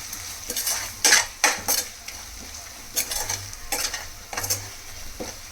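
A pot of rice-based dappalam gets its chilli powder stirred in, with sharp metal spoon scrapes and clinks against the vessel in irregular bursts over a low sizzle, close and without speech.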